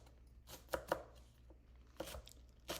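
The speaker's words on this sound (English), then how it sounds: "So we'll just give these a slice, and we're gonna use the tops too." Knife slicing onion on a cutting board for a summer steak dinner, a few crisp chops spaced irregularly, close and moderately loud against a quiet kitchen background.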